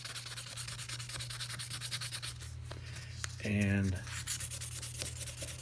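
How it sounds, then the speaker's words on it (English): A knife blade rubbed with 1200 grit sandpaper, steady rapid back-and-forth scratching up close, with a brief spoken word partway through. "I'm going to take some of the last sandpaper I used, which was 1200 on this particular one,"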